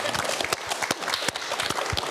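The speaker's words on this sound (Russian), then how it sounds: "Аплодируем." A studio audience applauding, with a brief burst of separate claps standing out, near and moderately loud, with a little talk underneath.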